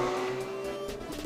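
A 2019 Porsche 911 GT3 RS with a naturally aspirated engine gives a brief, steady, moderately loud drone with a sustained tone and no talk.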